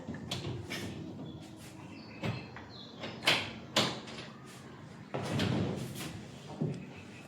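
An old wooden door in a heritage house in Baliuag City, Bulacan, is opened to the next room, with a run of scrapes, rattles and dull thumps over several seconds against a noisy room background.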